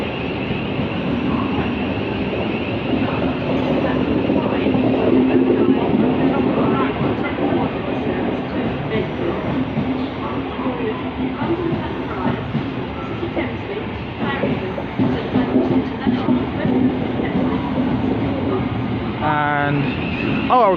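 A train at London Bridge station rumbling continuously, with a high, wavering wheel flange squeal and a voice speaking over the noise.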